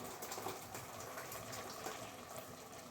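Water, about 1.5 litres of boiling water, gushes steadily into a big pot, a continuous full splashing pour at close range with no talking.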